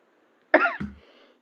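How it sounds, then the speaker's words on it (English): A woman coughs once in a recording played back, a short harsh burst followed by a fading rasp, alone against a quiet background; she is ill at the time. "at some point she even coughed while she was trying to read the sentence on the screen"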